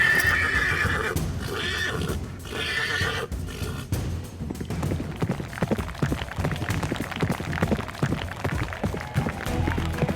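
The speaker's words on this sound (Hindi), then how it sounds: "देखो तो, श्यामदा के इशारे पर घोड़ा कैसा दौड़ा जा रहा है।" A horse whinnies loudly, then breaks into a run, its hooves pounding out a quick, continuous rhythm close by.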